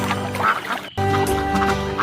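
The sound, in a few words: ducks quacking, released in a rice field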